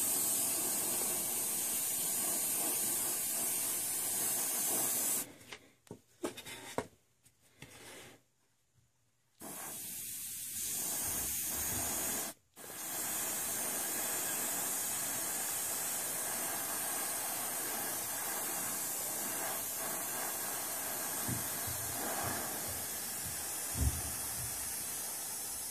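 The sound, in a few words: airbrush spraying Vallejo Surface Primer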